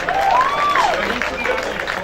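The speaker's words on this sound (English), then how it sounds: "Give yourselves a big round of applause." A women's football squad applauds in an outdoor setting, scattered clapping and crowd noise mixed with cheering voices and a whoop sliding over the top.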